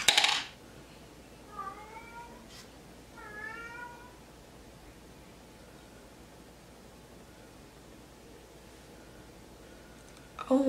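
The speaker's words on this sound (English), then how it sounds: "He's so vocal. Even when he pees, he meows." A cat outdoors meows twice, short rising calls a second or two apart, fairly close over quiet background hiss, with brief clattering knocks at the start and end.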